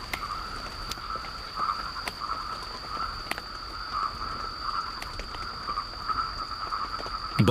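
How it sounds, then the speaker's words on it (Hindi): Purple frog calling in the rain in the Western Ghats forest: a steady pulsing call runs throughout alongside a constant high insect-like tone, with scattered sharp rain-drop taps, moderately close. "बारिश की बूंदों के स्पर्श ने इस पर्पल फ्रॉग को सक्रिय कर दिया है।"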